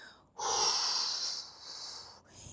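One long, audible inhale through the nose during a yoga and pilates exercise, close and breathy, tapering off, then a short further intake of breath at the end.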